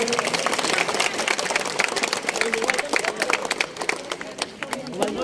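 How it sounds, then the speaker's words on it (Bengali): Audience at a school event in Mathbaria claps together to welcome the newly formed ad hoc committee president: dense, sustained applause that fades slightly near the end, with faint crowd murmur mixed in. "সবাই আমরা করতালির মাধ্যমে"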